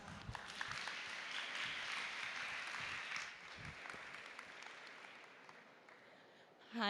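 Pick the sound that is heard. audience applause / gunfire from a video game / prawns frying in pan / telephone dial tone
audience applause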